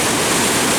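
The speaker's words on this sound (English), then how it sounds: "This is normally a creek. And it is a raging river right now." A normally small creek swollen into a raging river during a Pacific Northwest windstorm, a steady, dense roar of rushing floodwater filling the whole moment with no voices.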